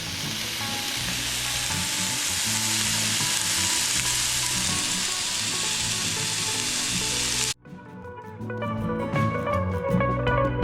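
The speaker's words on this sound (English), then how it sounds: "listen to that sear." Meat sears in a hot pan with a loud, steady frying sizzle close by for about seven seconds, then the hiss drops away briefly and returns with clinks and stirring noises.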